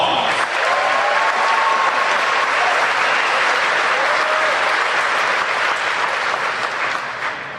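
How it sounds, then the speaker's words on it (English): An audience at a DC West high school graduation ceremony gives the graduates a loud, dense round of applause that stays strong throughout and tapers off in the final second. "Let's give them one more round of applause."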